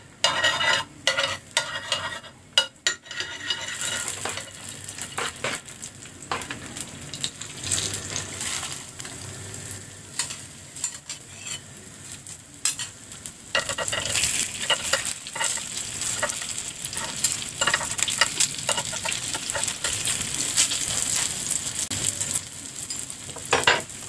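Steady crackling sizzle of cimin dough frying in a pan, with intermittent scraping and stirring clatter, close and continuous throughout.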